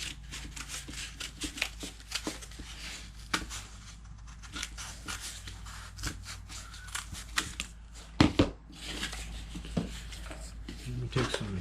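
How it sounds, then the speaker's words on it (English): Heavy-duty scissors cutting material for a homemade Christmas ornament, a series of close crisp snips and rubbing slides scattered through the passage, with a few louder clunks near the end. "Take some scissors. I like the heavier duty scissors."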